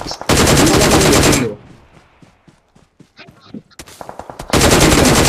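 Rapid automatic gunfire from Battlegrounds Mobile India rattles in two loud, dense bursts, one at the start and one at the end, with a quieter gap of scattered shots and movement between them.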